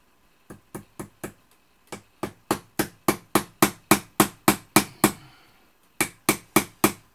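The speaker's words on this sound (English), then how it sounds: "Little brass hammer." A small brass hammer taps on a quill fitting, about twenty sharp, ringing strikes in a steady rhythm with a brief pause, close and clear, no talk.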